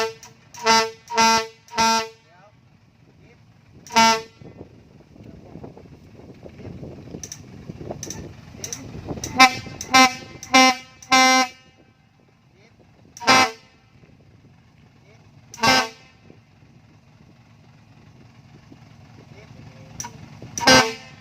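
A six-wheel truck's horn blares in repeated loud, tonal blasts, some short and some held, separated by pauses filled with a low idling engine rumble and faint voices.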